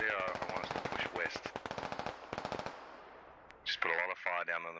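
Squad military shooter game gunfire, rapid machine-gun bursts in close loud strings, a pause, then more shots in choppier bursts.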